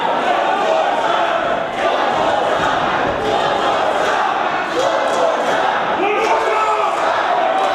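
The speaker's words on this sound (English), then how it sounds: "And now this crowd chanting for one more time." A wrestling event crowd chants loudly and continuously, a dense, steady roar of voices filling the whole stretch with little letup.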